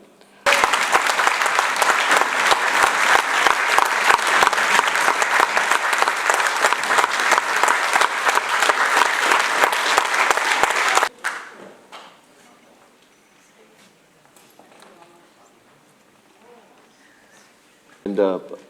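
Sustained loud applause from a council chamber crowd greeting the newly elected Speaker of the Mossel Bay Municipality, dense clapping for about ten seconds before cutting off into quiet room murmur.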